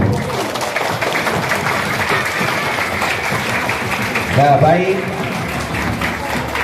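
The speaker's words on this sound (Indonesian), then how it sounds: "tepuk tangan untuk kita semua nih" An audience claps through a religious lecture gathering, a steady mass of applause that runs from start to finish, with a voice speaking over it.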